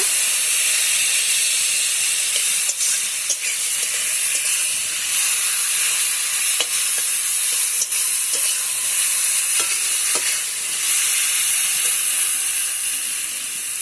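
Food stir-fried and reduced in a pan gives a loud continuous sizzling hiss with steam, marked by scattered scrapes and clicks of the spatula throughout, close up with no talk.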